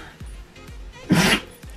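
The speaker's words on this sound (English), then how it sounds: "Oh, bless you, Chippy." A dog gives one short, sharp, loud sneeze near the end of the clip, following quieter rhythmic thumps, with no talking.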